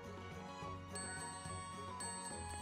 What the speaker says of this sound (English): Ring that bell for room service.